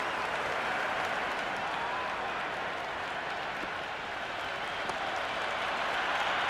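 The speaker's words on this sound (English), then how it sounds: "The crowd is electric right now." In the Cricket 26 video game, a stadium crowd roars during an India versus England one-day international. The cheer forms a loud, continuous wall of noise that stays at a steady level throughout.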